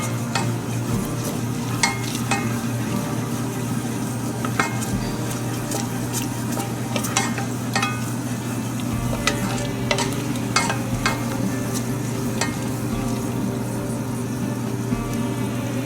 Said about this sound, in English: the whole masalas cook, this will also brown a little bit. It will caramelize.